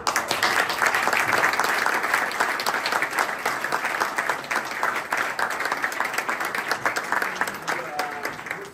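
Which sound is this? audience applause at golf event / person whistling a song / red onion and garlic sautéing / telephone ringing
audience applause at golf event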